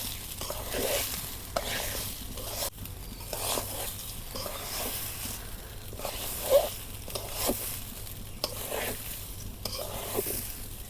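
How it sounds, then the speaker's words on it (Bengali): Rice for beef biryani fries in a pot on a clay stove, giving a soft steady sizzle broken by repeated scraping stir strokes, fairly quiet throughout. "ভালো করে ভাজতে হয়।"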